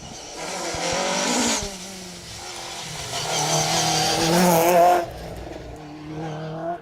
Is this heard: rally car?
yes